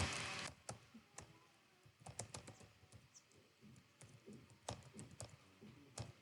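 An email address being typed on a computer keyboard: faint, irregular clicking keystrokes up close, coming in short clusters with brief pauses, no voices.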